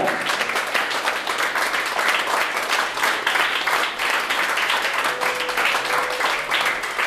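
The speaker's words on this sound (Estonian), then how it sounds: "Aplaus neilegi." A stage audience gives steady, dense applause for the finalists, the clapping continuous and fairly loud throughout with a brief faint tone near the end.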